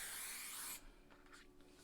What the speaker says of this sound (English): So we're going to spray a bit onto another spare piece of card.